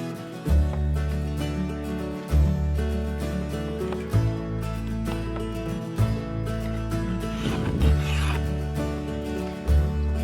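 A file rasps against a Badboy Maverick mower blade in steady back-and-forth strokes, loud and close, with a steady hum running underneath throughout.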